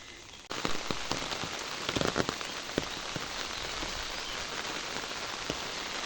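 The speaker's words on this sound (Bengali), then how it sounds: "আজকে সকাল থেকে প্রচুর বৃষ্টি হচ্ছে সারাদিন সম্ভবত সারাদিন বৃষ্টি হবে" Heavy rain pours down steadily on a farm, a dense continuous hiss with scattered louder drops striking nearby surfaces, loud and close with no voices.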